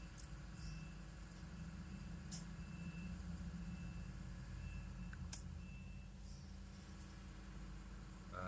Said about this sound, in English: This damn truck is noisy.